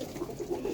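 A Boski-eyed pigeon in a pigeon loft gives a short, soft, low cooing call at close range. The rolling coo lasts under a second.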